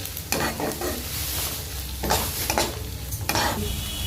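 Ginger-garlic paste fries in a pan with onions that have been softened, under a continuous loud sizzle, while repeated scraping strokes of a spoon sound close up in bursts about every second.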